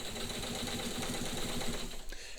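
A Singer 15-90 sewing machine stitching a row, its needle running in a fast, even rhythmic clatter for about two seconds before slowing to a stop, close and clear.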